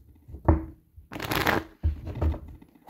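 A deck of tarot cards being shuffled by hand, with three or four quick riffling bursts separated by short pauses, close and clear.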